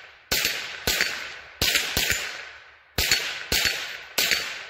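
A Rossi RS22 rifle with a folded Promag PM279 stock fires seven sharp, loud shots at close range in an uneven rhythm, each crack trailing off briefly.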